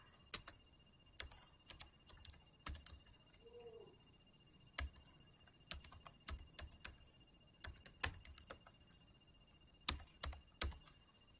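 Quiet, irregular clicks of typing on a computer keyboard, coming in short bursts with brief pauses, close and alone.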